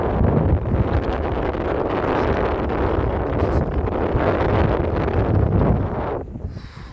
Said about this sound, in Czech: Fičáku je to tady slušně teda.